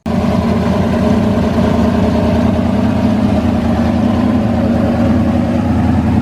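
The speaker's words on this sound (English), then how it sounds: "So this is the motor started." A loud, rumbling 1988 IROC race car engine with SuperTrapp mufflers idles steadily and close by at a track day, its deep low drone continuous and unbroken throughout.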